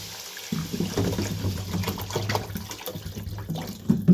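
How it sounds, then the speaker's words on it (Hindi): Water poured into a pan of roasted grated carrots while making gajrela, a steady close splashing and gurgling pour that runs for several seconds. "अब मैं इसमें ना पानी डाल दूँगी"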